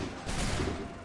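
Massed musket volley in Assassin's Creed 3, a dense burst of gunfire swelling over about a second of steady battle noise, no voices.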